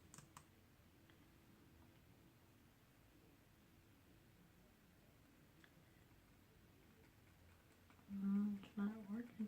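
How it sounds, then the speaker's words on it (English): Faint, quiet clicking of keys typed on a computer keyboard in a soft irregular rhythm, then a person starts talking near the end. "I can't type today. Typing is not my asset today."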